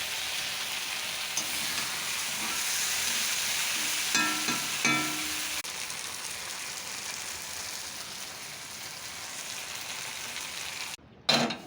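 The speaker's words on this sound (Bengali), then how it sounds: "নুন দিয়ে দিলাম, ফোড়ন দিয়ে দিলাম, পেঁয়াজের ফোড়ন দিয়ে দিলাম।" Dal is tempered with onion and salt in a hot pan: a continuous, even sizzle with a few metallic stirring clinks partway through and a short knock at the end, with no one speaking.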